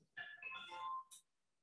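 A mobile phone rings in a lecture hall: a short melodic ringtone with stepped, clear tones plays for about a second, ending with a brief sharp click, followed by quiet.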